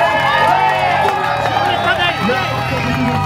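Dense roadside crowd at a Critérium du Dauphiné cycling time trial start, cheering, shouting and clapping loudly and continuously as a rider sets off on the 17.4 km course, with voices mixed into the roar.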